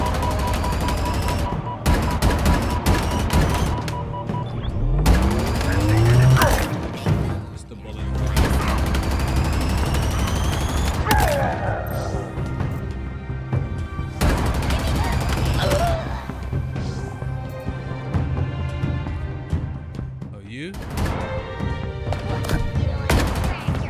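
Rapid bursts of gunfire and explosive booms from a Halo Infinite campaign firefight on Legendary difficulty, loud and sustained through the whole stretch, with game sound effects layered between the volleys and a voice talking over parts of it.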